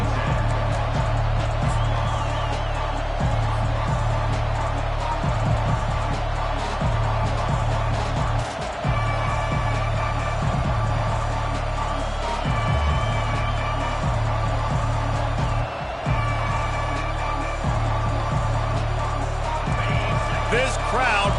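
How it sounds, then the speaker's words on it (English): Stadium crowd in the College Football 25 video game roars steadily throughout, a dense continuous wall of cheering at a visiting team's welcome, with a commentator talking over it. "This crowd bringing an ear-splitting welcome to their visitors."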